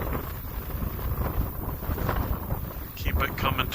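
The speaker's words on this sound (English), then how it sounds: "Of course, the gust has picked up." Gusty wind buffeting the microphone in open air while an RC Edge 540 aerobatic plane is flown, a loud continuous roar with a faint whine near the end.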